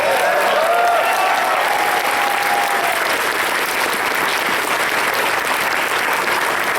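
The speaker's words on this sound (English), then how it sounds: "Let's give them a round of applause again." Audience applause fills a closing ceremony at a fan convention, a dense, steady clapping that holds loud and even throughout, with a faint whistle-like tone early on.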